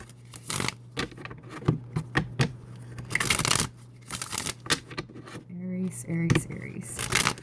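Tarot cards riffle and slap in short irregular bursts close up, with papery flicks and scrapes, while a voice murmurs briefly in the background.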